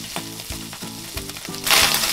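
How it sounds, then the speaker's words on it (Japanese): Ground meat for mapo tofu stir-fries in a wok over medium heat: loud, close, continuous frying crackle with a rhythmic series of scraping strokes, ending in a brighter burst of sizzle; nobody talks. "炒めては混ぜ、炒めては混ぜ"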